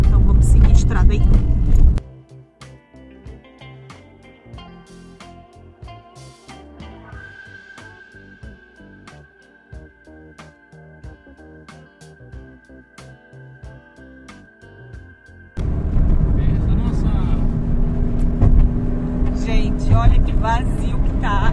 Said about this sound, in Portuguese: vocês veem que passam mais carro